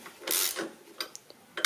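Ratchet wrench with a 16 mm socket running bolts back in on a 1994 Renault Express 1.9 D engine mount, giving brief close metallic clicking bursts and scrapes, fairly quiet, with no talk.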